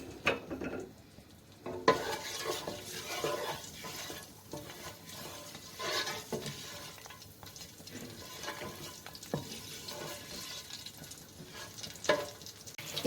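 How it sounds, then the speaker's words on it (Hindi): Whole garam masala spices fry in melted ghee, a steady close crackle and sizzle with occasional stirring scrapes and clinks running through the stretch, no talking. "अब इसके अंदर हम ये गरम मसाला साबुत जो है ये डाल देंगे। गरम मसाला डाल के 1-2 मिनट इसे फ्राई कर लेंगे।"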